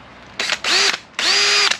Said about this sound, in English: I'm using an 1/8-inch drill bit.